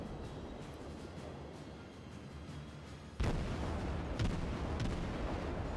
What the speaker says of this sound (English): Yep, there you go, one of the torpedoes hit